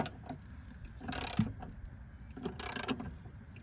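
A wrench works on the front shock nut of a 1988–98 Chevy/GMC C1500 2WD pickup, giving two short bursts of metallic ratcheting clicks close up against a quiet background.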